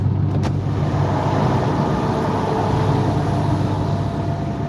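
Steady road drone heard from inside a car at about 70 mph on a highway while overtaking a gravel truck, a constant low rumble and tire hiss with no clear peaks.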